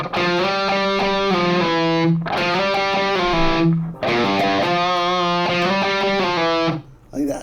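Heavily distorted electric guitar chugging a 1985 hard rock riff with slides and pull-offs, loud dense repeated phrases in two passes separated by a short break, played alone.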